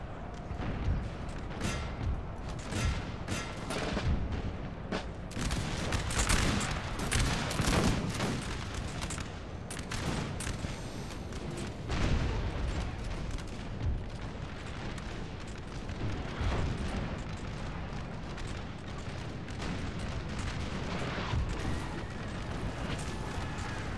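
Dense, continuous cannon and musket fire from massed artillery in Napoleon: Total War, with overlapping booms and crackling volleys rolling on without pause across the whole stretch.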